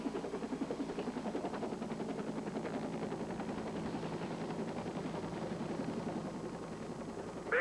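Rhythmic thudding of medical helicopter rotor blades with a steady engine drone, moderately distant and continuous, responding to a head-on crash scene.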